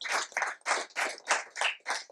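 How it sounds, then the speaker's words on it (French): Hand clapping at a hip hop culture conference in France comes as a rhythmic series of about eight distinct, evenly spaced claps, fairly close and moderately loud, with no talking over it. "qu'on peut applaudir"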